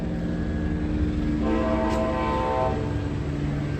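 An Amtrak train sounds its horn near a museum, a loud chord blast of about a second rising over a steady low rumble of the passing train.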